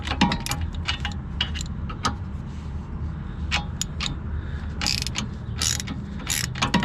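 A ratchet spins freely on a front strut nut of a 1998 Toyota Camry, giving a steady run of close, crisp mechanical clicks with a few brighter clacks throughout.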